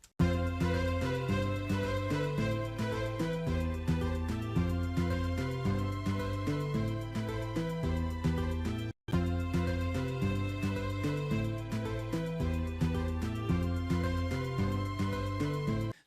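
A music arrangement of layered rhythmic plucky synth notes over lush sustained strings plays continuously with a steady pulsing groove, interrupted by a brief cut midway before resuming, with no talking.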